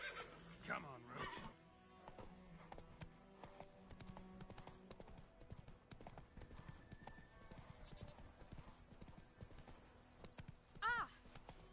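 Geralt's horse Roach in The Witcher 3 gallops with rapid clip-clop hoofbeats, whinnying near the start and again near the end, while a voice speaks briefly over the hooves.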